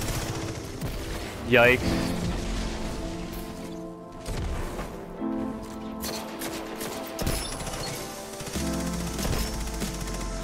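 Hand cannon shots in Destiny 2 gameplay ring out as a few sharp, spaced reports over game music and effects, with a player speaking briefly.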